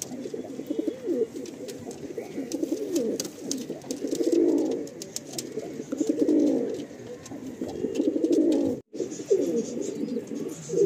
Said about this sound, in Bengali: দেখুন অলরেডি মিটিংয়ের জন্য রেডি হয়ে যাচ্ছে পায়রা।